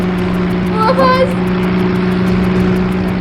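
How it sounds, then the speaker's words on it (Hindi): A motorboat engine drones at a steady, loud pitch throughout, while a voice speaks briefly over it. "ये कोई मोटर बोट की आवाज हुई"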